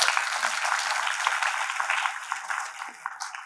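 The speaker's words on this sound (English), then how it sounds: "So she certainly deserves the applaud that all of you give." Crowd at an international innovation conference applauding, a thick wash of clapping hands that holds steady before tapering slightly toward the end, with no speech over it.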